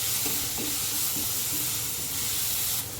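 Tomatoes with turmeric and salt are stirred in a hot pan, giving a loud, steady hissing sizzle with faint spoon movements underneath, close up and continuous.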